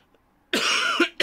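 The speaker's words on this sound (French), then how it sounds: "Excusez-moi de tousser." A single harsh cough, close and loud, followed by a brief second cough burst.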